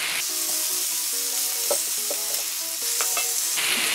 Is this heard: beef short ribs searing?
yes